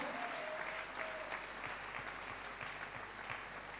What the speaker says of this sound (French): Oh, acclamez bien.